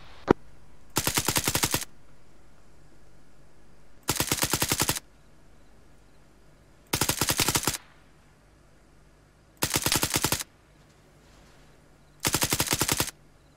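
Machine gun suppressing fire in a game battle, five evenly spaced bursts of rapid automatic shots, each lasting under a second, loud and close with short quiet pauses between them.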